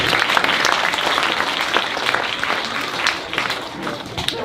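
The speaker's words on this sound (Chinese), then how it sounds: "请把掌声送给我们的2个冠名商" An audience at a Chinese New Year gala applauds for the event's sponsors, a steady roomful of clapping that stays loud and even throughout, with a few sharper individual claps standing out.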